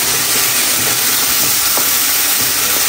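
Dry chilli chicken with soy sauce being stirred in a hot pan, a loud continuous hiss and sizzle with faint scraping clicks throughout.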